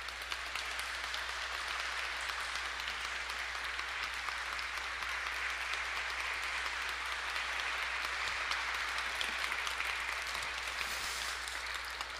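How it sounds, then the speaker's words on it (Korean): An audience gives a priest sustained applause before a lecture at a church, many hands clapping in a dense, even wash that holds steady throughout and sounds somewhat distant. "박수로 환영해 주시길 바랍니다."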